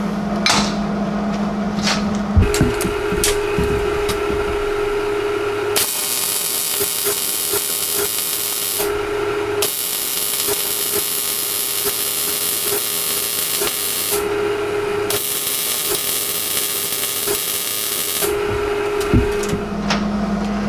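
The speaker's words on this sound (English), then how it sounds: "we're going to go ahead and weld them anyway." Steel braces for a Jeep shackle kit being welded, with a steady crackling hiss that runs in long continuous stretches broken by brief pauses and shifts in tone, loud and close with no voices.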